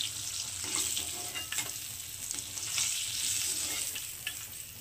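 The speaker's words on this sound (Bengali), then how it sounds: "তো দেখুন বন্ধুরা, মাছগুলো ভাজা হয়ে গেছে।" Hilsa fish frying in oil in a wok, a quiet, steady sizzle with soft crackling and stirring, no voices over it.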